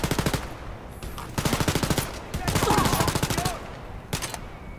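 Rapid automatic gunfire in the video game Wolfenstein: Youngblood, loud bursts of machine-gun fire with short pauses between them, filling the scene with dense rattling shots and no talk.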